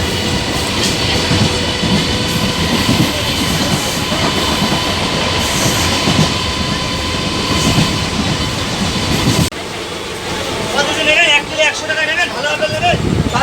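Interior of a moving passenger train out of Gopalnagar, with continuous rumbling wheels and rhythmic rail clatter throughout, the tone shifting near the end as voices and faint chatter come through.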